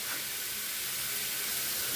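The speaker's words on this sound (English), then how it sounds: "Just a sizzling away" Steak searing in a brand new skillet gives a steady, even sizzle, a soft continuous hiss with no breaks and no talk over it.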